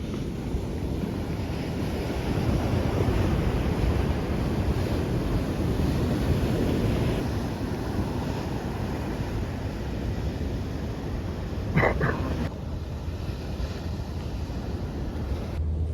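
Ocean surf and strong wind roar steadily at Vero Beach after a hurricane, a continuous broad rush with heavy wind buffeting on the microphone and a brief knock near the end, with no voices.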